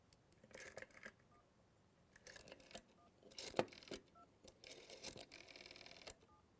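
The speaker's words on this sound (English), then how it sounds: "Do you hear the little beep?" Several short, faint electronic beeps sound between quiet clicks and fumbling taps, spaced irregularly like buttons being pressed on a rotary phone dialpad project.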